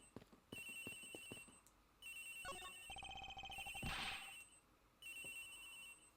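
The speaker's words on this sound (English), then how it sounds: "The ringing is coming from somewhere around here." A cell phone rings from inside a locker in the Ace Attorney Investigations video game, its repeated electronic ring bursts sounding over game music and clacking text-scroll blips, with short gaps between rings.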